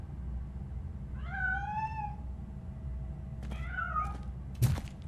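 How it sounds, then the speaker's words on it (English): Cat meowing in the video game Robocop Rogue City: two clear, drawn-out meows a couple of seconds apart over a low ambient hum, followed by a brief thud. "I'm afraid this time it's a one-way street, Mr. Cat."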